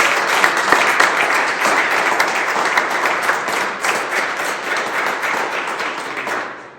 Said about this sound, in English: Another round of applause for our new leaders.